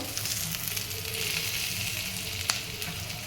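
Cashews and tomato sauté in hot oil for a paneer gravy, a loud continuous sizzle with a brief clatter of stirring near the end, no talking.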